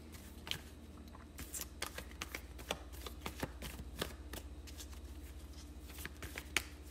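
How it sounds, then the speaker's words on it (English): Tarot cards are shuffled by hand close up in a quiet room, giving a faint, steady run of soft riffling clicks and slaps, and no talk. "I should have been shuffling while I was talking about your cards"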